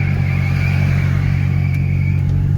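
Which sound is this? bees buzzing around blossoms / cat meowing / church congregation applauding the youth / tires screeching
tires screeching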